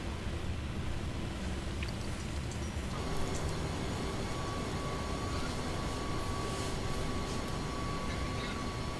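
Simulated MD-11 jet engines idle on the ground in X-Plane 12 at Orlando, a steady broadband roar with a thin whine that rises in pitch partway through, with no talk.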